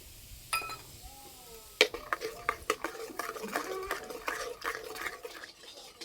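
Black cumin, turmeric and chilli powder sizzle in mustard oil for a raw mango pickle as a metal spoon repeatedly scrapes and clinks against the pan, a steady run of close strokes over the low frying hiss.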